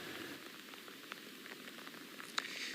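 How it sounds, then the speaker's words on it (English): Heavy rain from Hurricane Francine patters steadily, with scattered sharp drop hits standing out from a soft, fairly faint hiss and no one talking. "The rain rates are increasing, winds are increasing as well."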